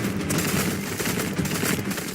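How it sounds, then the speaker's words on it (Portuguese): Heavy gunfire from a war film soundtrack rattles in dense, continuous bursts, loud and busy with no pause across the whole stretch. "É muito barulho, muito tiro"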